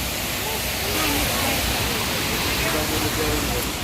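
A river in spate near a Mahadev temple at Girnar, Junagadh, gives a steady, dense rush of flowing water, loud and continuous with no break.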